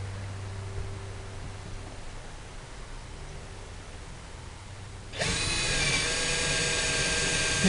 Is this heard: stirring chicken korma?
no